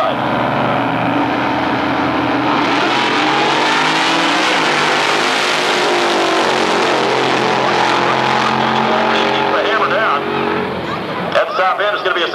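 A Camaro and a supercharged Nova launch side by side at a 1999 NMCA drag race at Atlanta Dragway in Commerce, Georgia, their engines roaring loud and rising in pitch as they accelerate away under an announcer's commentary.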